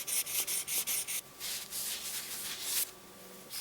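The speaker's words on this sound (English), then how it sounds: "wrap your sandpaper around the corner like this. That way it won't peel up once it gets wet." Wet sandpaper rubbing across metal on a 1940s Delta jointer under restoration, a series of short rhythmic strokes at first, then one longer steady rasping pass, close and clear with no talking.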